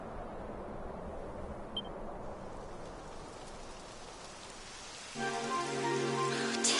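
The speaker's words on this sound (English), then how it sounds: "It would have to go and start raining, wouldn't it?" Rain falling in the Dragon Quest XI video game, a soft steady patter throughout, with a brighter tonal game sound joining over the last seconds.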